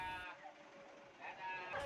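A sheep bleats faintly in a livestock market at Tasikmalaya ahead of Eid al-Adha, two short wavering calls heard at a distance against a quiet background.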